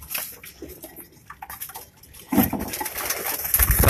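Soft pigeon cooing on a rooftop in Karachi among rustling and fluttering, with a louder burst of flapping and scratchy noise toward the end.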